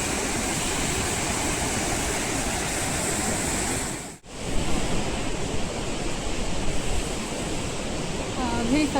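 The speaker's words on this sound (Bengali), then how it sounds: "ঝর্ণাটা কি সুন্দর" Waterfall along the Annapurna circuit trek, a loud constant rushing roar of falling water filling the whole stretch, broken once by a brief dip.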